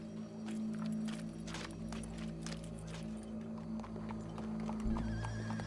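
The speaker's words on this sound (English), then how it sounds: "Go brush that horse" Horse hooves clop rhythmically alongside loud neighs and whinnies in the Red Dead Redemption 2 game, close by over a low humming background, with no speech.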